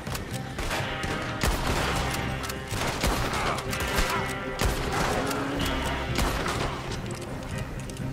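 Dense, near-continuous gunfire from Red Dead Redemption 2, with repeated sharp shots and booms layered over one another in a loud, chaotic firefight.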